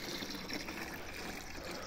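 Fresh water poured out for chickens and Cameroon sheep, a continuous soft trickling and splashing, fairly quiet and steady, with no talk over it.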